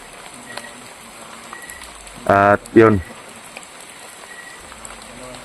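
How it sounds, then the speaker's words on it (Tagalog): Heavy rain pours steadily at night during a typhoon, a constant hiss underneath, with a short spoken phrase breaking in near the middle. "Grabe po yung ulan dito."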